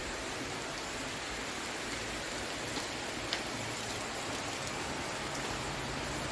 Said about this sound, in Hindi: ये देखिए बारिश इतनी खतरनाक हो रही है